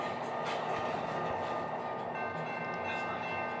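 A TGV Duplex double-decker train in a video game runs with a steady, continuous rumble and rail hum, tonal whine layered over it, with no voices.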